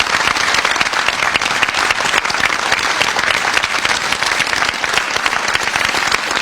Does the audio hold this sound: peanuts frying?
no